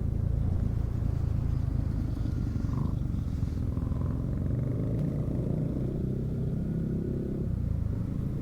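Road traffic on a winding mountain highway in Atimonan, Quezon, with a steady, continuous rumble of car and motorcycle engines nearby. The low idling and rolling drone holds evenly throughout, with no talk.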